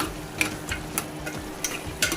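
Brinjal curry being stirred in a pan: scattered scraping clicks and light spoon knocks at an irregular pace over a faint steady sizzle, close and fairly quiet.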